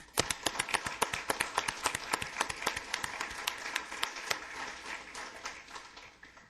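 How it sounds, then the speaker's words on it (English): A round of applause fills a council meeting chamber, dense overlapping claps from a roomful of attendees that hold steady for several seconds before gradually thinning out. "I think we need to give her a round of applause because she started this program"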